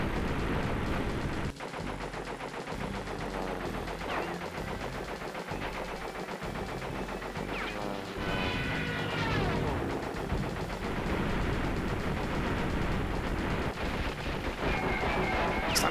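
Relentless automatic gunfire fires at the player in a video game shootout, dense rapid bursts of shots with occasional crashes, continuous and loud throughout.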